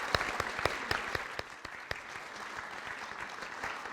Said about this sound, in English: So let's give out an applause,